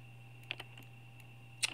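Clicks from a computer mouse while modelling in Lightwave 3D 9.3, a few faint sharp clicks over a quiet steady hum, with no voices.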